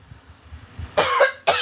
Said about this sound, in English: I will be coughing.